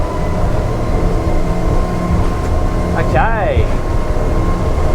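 A Jeanneau Merry Fisher 1095 motorboat running through big ocean waves has its engines throttle up with a loud, steady roar, a brief rising and falling tone sweeping through midway, and someone speaks briefly over it.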